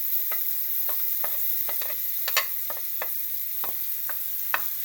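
Chopped green pepper and ginger fry in a pan with a steady broadband sizzle, broken by a series of sharp clicks and scrapes from stirring and a faint low hum running underneath; no one speaks.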